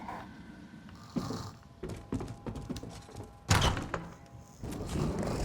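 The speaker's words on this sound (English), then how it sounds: "This little girl snoring so loud." A little girl character in The Elder Scrolls Online snores loudly, a run of rough rasping breaths broken by a few dull thumps, close and prominent.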